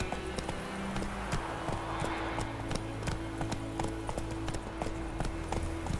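Roach, the horse in The Witcher video game, gallops with a steady, rapid clip-clop of hooves that runs the whole time over a low sustained musical drone.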